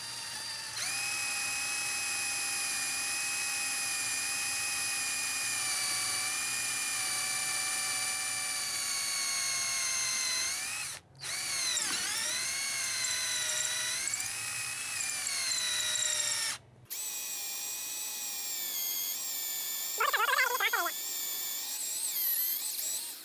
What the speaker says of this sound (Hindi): यानी सुराख करने के लिए हमने तेज़ी के साथ ड्रिल को घुमाना है।